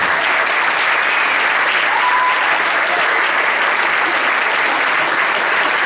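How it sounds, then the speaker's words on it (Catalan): An audience at a presentation in Alboraia applauds the Alboraya Art Studio team: dense, steady clapping that holds loud and even from start to finish, with no voices standing out. "jo vull també demanar un aplaudiment per ells per la seva dedicació i la seva implicació"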